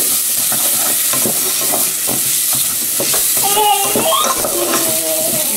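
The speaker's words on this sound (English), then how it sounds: "Alright, so I'm about to add my rice. I'm going to give it a good stir." Rice stirred and toasted in a hot pan, a continuous close sizzle with scraping stir strokes throughout.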